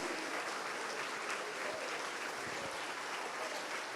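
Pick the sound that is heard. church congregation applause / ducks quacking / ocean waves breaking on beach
church congregation applause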